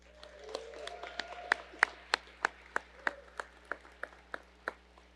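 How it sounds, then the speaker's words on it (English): At a college athletics Hall of Fame induction ceremony, sparse rhythmic clapping sounds: about fifteen distinct claps at an even pace, fairly faint, over a low steady hum, with little crowd noise around them. "so let's have another round of applause"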